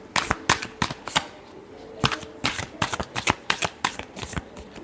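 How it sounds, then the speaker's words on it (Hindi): Tarot cards being shuffled by hand in close-up, a run of crisp riffling flicks and slaps in irregular bursts, with no talking. "last shuffle"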